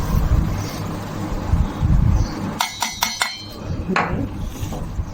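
Mango pickle with spices and chilli is mixed in a metal pot, giving a rough scraping stir followed by several sharp clanks and clinks of a utensil against the pot, loud and close with no talking.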